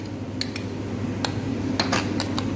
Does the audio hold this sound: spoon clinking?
yes